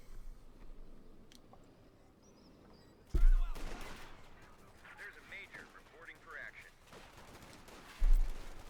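Bursts of machine-gun and rifle fire from a Company of Heroes 2 battle, with a sharp loud volley early on and another near the end, lighter shots scattered between and a voice talking throughout.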